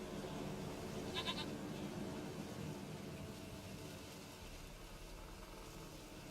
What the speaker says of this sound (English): Scheiß Ziege.